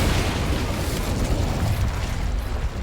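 An Incendio fire spell cast in the video game Hogwarts Legacy, a fiery whooshing burst with a dense rumbling roar that holds briefly and then fades slightly.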